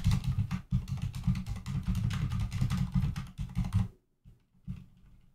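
Fast clattering keystrokes on a computer keyboard whose keys have not been lubed, a dense close rapid patter for about four seconds, then a pause and a couple of isolated clicks.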